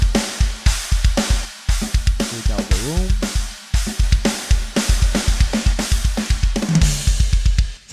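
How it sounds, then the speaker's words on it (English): Mixed metal drum kit run through a Valhalla Supermassive reverb, playing a loud, steady groove of punchy kick and snare hits with dense cymbal wash and a spacious reverberant tail, no voices. "The drums together all sound like this."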